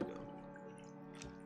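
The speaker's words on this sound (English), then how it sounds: "nothing on this channel is complete without the amazing immaculate water pour" Water poured into a shaker cup for a G Fuel energy drink mix, a short close splash and trickle that stays quiet and brief.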